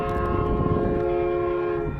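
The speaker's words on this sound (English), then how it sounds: "That's my favorite horn. K3LA horn, is it?" Metrolink train sounding a K3LA horn at a rail crossing: a loud, steady multi-tone chord held for the full two seconds over rumbling track noise, close by.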